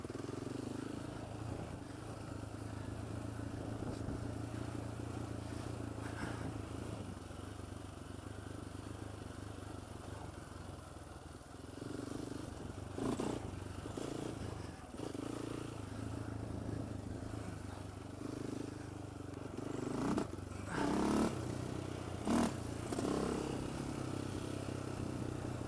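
Polaris Outlaw 525 quad engine running steadily while riding, a continuous mid-pitched drone with rougher bursts and throttle surges near the end, fairly close and unbroken by speech.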